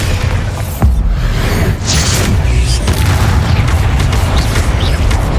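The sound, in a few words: Bombarda spell explosion, from the video game Hogwarts Legacy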